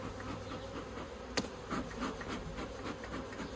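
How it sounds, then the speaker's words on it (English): Honey bees buzz steadily around an open, overwintered single-brood-chamber beehive during a full inspection in Australia, a dense close hum with a sharp click near the middle. "There's plenty of bees in this upper box"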